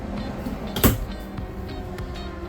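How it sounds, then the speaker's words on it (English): A hard sliding door on the bathroom of a Grand Design 2670MK RV is slid, giving one short, sharp knock near the start, followed by faint light clatter in a quiet interior. "It does have this hard door though to slide, give you some privacy."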